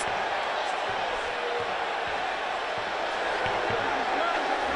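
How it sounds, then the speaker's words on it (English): A football stadium crowd at an Auburn vs LSU college game roars steadily in a dense, sustained wash of noise after a forward progress call near the goal line, with faint thumps scattered underneath. "The crowd is reacting that the forward progress was about at the five."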